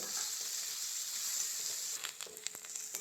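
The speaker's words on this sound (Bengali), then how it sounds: "পেঁয়াজটা খুব ভালো করে ভেজে নিয়েছি" Chopped onion frying in oil for a potato and pea curry: a loud, steady close-up sizzle, broken after two seconds by a few quick stirring scrapes and clinks.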